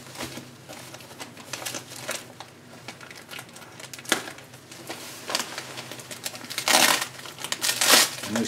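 Insulation wrap and sellotape being peeled and unwrapped from a plant parcel, giving a steady close crinkling and rustling with several louder tearing bursts toward the end, without talk.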